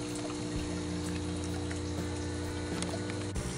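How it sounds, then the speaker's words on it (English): A bell siphon at the back of a Genesis aquaponics kit drains water into a hydroponic bed, a continuous trickling gurgle over a steady low pump hum. "there's an auto siphon at the back that triggers this to drain, and the water drains and goes into one of our hydro beds."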